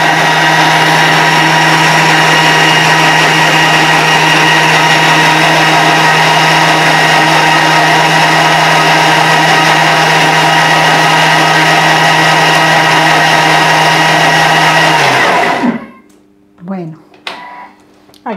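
A blender running on its turbo setting crushes fruit for homemade ice pops, a loud steady motor whine that cuts off near the end, followed by faint handling sounds.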